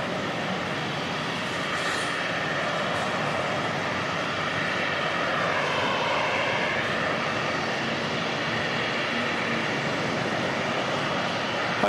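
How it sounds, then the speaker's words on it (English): An Airbus A330 taking off at Auckland Airport produces a broad, steady jet-engine roar, heard from a distance at moderate level, with a slow tonal sweep as the aircraft passes and no voices over it. "Hopefully we get some good sound off the A330 takeoff."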